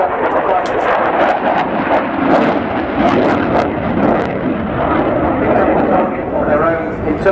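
Eurofighter Typhoon fighter jets intercept a C-130 at the Royal International Air Tattoo air show, a loud, broad jet roar that rises and falls over a few seconds with crackling bursts, while a commentator talks over it.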